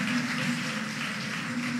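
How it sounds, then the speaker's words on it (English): Audience at a high school debate applauding, a dense wash of clapping that stays steady and fairly loud for a couple of seconds. "a round of applause for your own selves"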